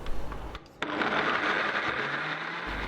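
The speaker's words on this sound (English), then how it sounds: "Put in the mixer and blend well." A blender whirs loudly up close after a brief pause, grinding cooked raspberry paste steadily for a couple of seconds.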